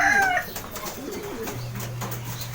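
Pigeons cooing nearby, a soft low throaty call repeating, with a brief chirp at the start and light background rustling.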